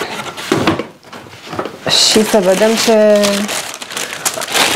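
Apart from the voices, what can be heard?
opening a Zara parcel box, paper wrapping rustling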